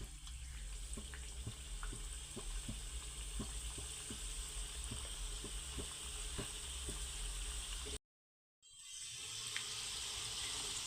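Wheat flour modak fry in hot oil with a steady, soft hiss and small intermittent pops, heard close and fairly quiet. A brief dropout cuts the sound near the end before the sizzle resumes, and no one speaks.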